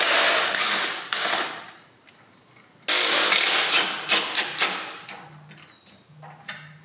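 Ratchet loosening the bolts on the driver's-side motor mount of a 10th-gen Honda Civic Si: bursts of rapid metallic clicking, close and fairly loud, separated by short pauses.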